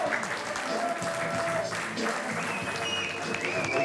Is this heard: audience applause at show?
yes